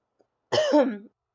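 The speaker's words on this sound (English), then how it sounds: "I just coughed" A single short, throaty cough, close and sudden against near silence, preceded by a faint tiny click.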